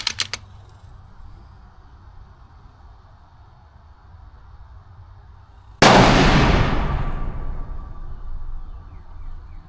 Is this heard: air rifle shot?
yes